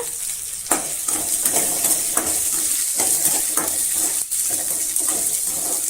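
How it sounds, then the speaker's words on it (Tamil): Shallots and tamarind sautéing in a pan for radish chutney, with a bright continuous sizzle and repeated close scrapes and clinks of a spatula stirring against the pan, and no voices. "ஒரு பத்து செகண்ட் போல் நல்லா வதக்கி விட்டுட்டு"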